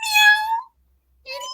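A house cat meows twice, close and clear: a drawn-out meow of about half a second, a brief silence, then a second meow starting.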